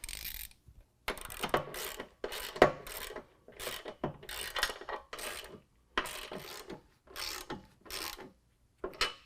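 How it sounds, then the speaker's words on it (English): A ratchet tightens the nuts on the rear bracket of N-Fab black hooped nerf bars on a 2019 Ram 1500, giving a series of about ten short, raspy clicking bursts separated by brief pauses, close and clear. "I'm going to lift it up, tighten the nuts."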